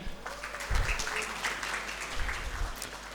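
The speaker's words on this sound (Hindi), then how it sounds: "तो इस पर KLF के लिए तालियां होनी चाहिए।" An audience at a mushaira poetry gathering during a literature festival breaks into applause, a moderate, steady patter of many hands with some low thumps and a faint voice or two beneath.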